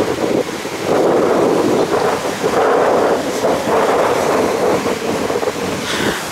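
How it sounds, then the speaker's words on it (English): Strong wind on a May trip in Cyprus blasting across the microphone outdoors, loud gusty rumble that swells and eases continuously without any talk. "Why wouldn't it suddenly be windy as soon as I start to eat dinner finally?"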